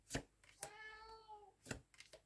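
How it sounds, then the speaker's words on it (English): A pet cat meows once or twice, a drawn-out tonal cry at close range in a quiet room, with brief soft rustles of handled tarot cards around it and no talking. "Can you hear my kitty cat?"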